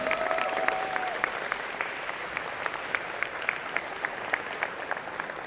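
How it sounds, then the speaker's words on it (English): Sustained applause from an audience at a college of engineering and computer science convocation, honoring student athletes; steady dense clapping with a few sharper claps standing out, continuing throughout at moderate level. "give them a big round of applause"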